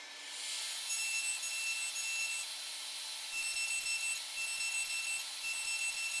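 A hand saw cuts through wood clamped and wedged firmly for a wax-pot box, giving a steady continuous rasping stroke sound, close and fairly even, with a brief pause midway before the sawing resumes.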